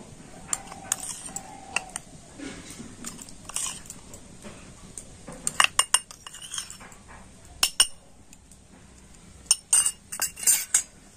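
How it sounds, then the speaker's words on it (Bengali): A metal spoon clinks against a bowl while gram flour goes in, scattered bright taps and clatters spaced irregularly, close and fairly crisp, with quiet stretches between, no speech. "তো এই চামচের আমি 4 চামচ বেসন দিয়ে দিচ্ছি"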